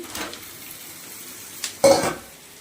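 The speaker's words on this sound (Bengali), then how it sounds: "এবার ভেজে রাখা মাংসগুলো দিয়ে দিচ্ছি।" Fried chicken pieces go into a pan of vegetables, two short scraping clatters of utensil against metal with a brief sizzle over quiet background.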